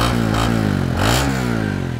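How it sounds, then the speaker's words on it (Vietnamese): A Honda Winner X motorcycle exhaust revs loudly up close, its engine note climbing and falling in a couple of swells over a throbbing idle, with no voices. "cái tiếng ống xả của Winner X nghe nó lực hơn"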